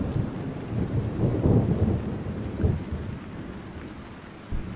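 Rain pours steadily in the Sudden Strike 4 war game while low thunder rumbles swell and fade twice, moderately loud, with no talk.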